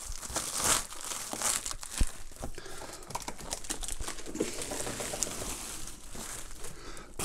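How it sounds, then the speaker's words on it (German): Crinkling and rustling of packaging material while a BenQ EW3280U 32-inch 4K monitor is unpacked, with scattered close crumples, tears and light taps running continuously throughout. "jetzt müssen wir den hier erstmal weiter auspacken"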